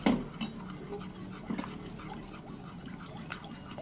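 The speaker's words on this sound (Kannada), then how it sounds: "ಸಕ್ಕರೆ ಪಾನಕವನ್ನು ಕದಡ್ತಾ ಇದ್ದೇನೆ" Soft scraping and clinking of a spoon stirring thickening sugar syrup in a pan for Sankranti sugar candies, quiet and continuous with faint metallic taps, no talking.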